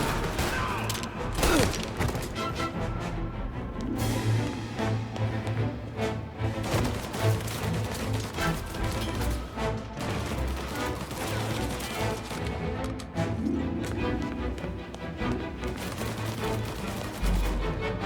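Scattered gunfire from a shootout in Mafia: Definitive Edition crackles amid a busy, dense mix of game sounds, with irregular bursts of shots rather than a single clear volley.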